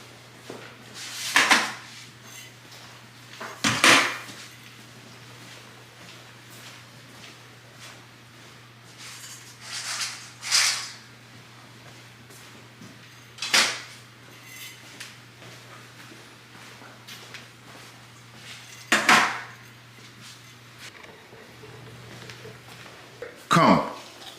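Dog food bowls set down one after another on a hard floor, several separate clunks spread out with pauses between them, near and fairly loud over a steady low hum.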